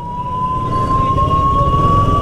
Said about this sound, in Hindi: एम्बुलेंस को रास्ता दिलाओ